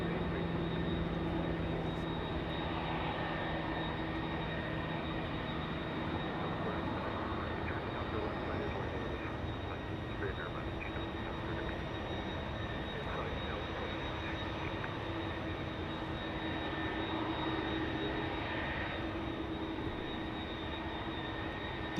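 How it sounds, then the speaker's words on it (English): An Airbus A330 taxis at Los Angeles International Airport, a steady, moderately distant jet engine drone with a faint whine, holding evenly throughout without breaks. "Taxi lights activated on the very green A330."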